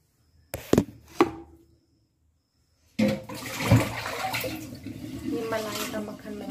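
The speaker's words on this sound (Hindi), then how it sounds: "तब तक मैं यहाँ पर बर्तन धो लेती हूँ" Dishes washed in a home kitchen: two sharp clatters of utensils, a pause, then a steady rush of running tap water with clinking and splashing that continues to the end.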